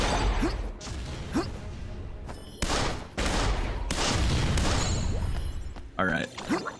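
Cannon fire in the Ni No Kuni 2 video game, with several loud, sharp booms and crashing bursts arriving in quick succession over dense game noise, while a voice talks over it.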